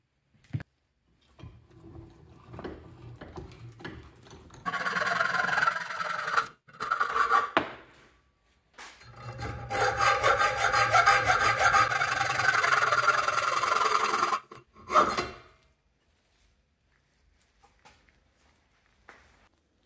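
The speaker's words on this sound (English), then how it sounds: "I'm gonna bring these over to the vise and cut off the sprues" Sprues are sawn off cast copper bars held in a vise: two sustained stretches of loud, rasping metal cutting separated by brief knocks, then silence.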